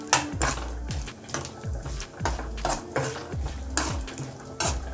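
Dry coconut roasting in a pan over medium heat, stirred with repeated rhythmic scrapes and knocks of a spoon against the pan, close by, with a faint sizzle underneath and no voices.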